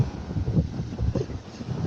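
Strong southwest monsoon wind buffets the coast during a storm with big waves, a steady rushing roar with gusty swells in loudness, no voices.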